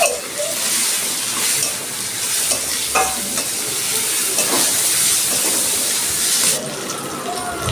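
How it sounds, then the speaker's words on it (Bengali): Onion, garlic and prawns fry in oil in a wok with turmeric, a steady close hiss and crackle of sizzling that runs throughout, with occasional stirring scrapes and no talk. "আমার পেঁয়াজ রসুন আর চিংড়ি মাছটা ভাজা হয়ে গেছে"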